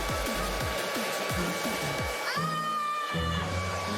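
Steady, loud hair dryer blowing throughout as hair is brushed and blow-dried, with a continuous whine, some low clatter and a voice-like tone partway through.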